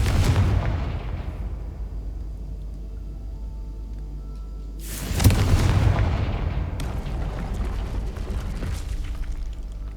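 A Confringo spell explosion in the Hogwarts Legacy video game goes off twice, each a deep booming blast that rumbles and fades, the second following about five seconds after the first.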